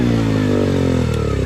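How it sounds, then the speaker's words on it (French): A KTM Duke motorcycle engine idles close by with a strong, steady low rumble, its pitch sagging slightly across a brief moment with no real rev spike. "À ma droite nous avons une KTM Duke. Monsieur allumez le moteur s'il vous plaît."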